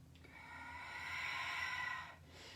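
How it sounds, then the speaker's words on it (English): A long, steady exhale of breath during a yoga flow, a soft breathy hiss that swells and fades over a couple of seconds, close and quiet with no talking. "Use your exhale, so empty out, dive a little deeper, one last breath."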